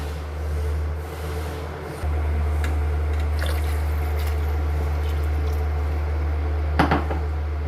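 Water is added to a pot of pav bhaji curry with soft splashes and squishy liquid sounds, heard over a steady low hum with faint background clatter and no talking.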